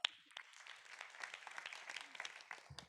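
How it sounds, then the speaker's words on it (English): Applause from the audience at a city council meeting fills the room as steady, fairly faint clapping, with scattered sharper claps and no talk over it. "Give yourself a big round of applause."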